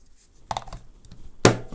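A Baxxtar Pro battery pack snaps into its holder: a couple of soft clicks, then one sharp, louder click close by.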